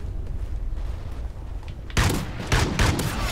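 Sniper rifle fire in Call of Duty Ghosts on Xbox One: after a stretch of steady low rumble, a sudden loud crack bursts out, followed by two or three further sharp reports with clattery tails.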